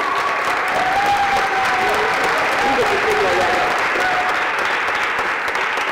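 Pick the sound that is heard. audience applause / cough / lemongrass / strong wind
audience applause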